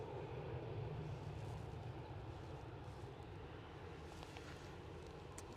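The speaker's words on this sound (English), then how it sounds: "So this is the Ryanair from Warsaw." A Ryanair airliner from Warsaw approaches Edinburgh airport, producing a faint, steady engine roar heard from a distance with no voices over it.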